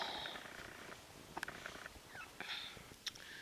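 A cat purrs softly up close in a low steady rumble, with a few faint sniffs and small clicks.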